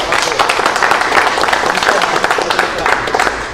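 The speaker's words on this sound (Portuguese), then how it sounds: "Uma salva de palmas, né, galera?" Audience applause at an Umbanda gathering, a dense, steady wash of many hands clapping nearby that runs the whole time, loud and continuous, with voices mixed in under it.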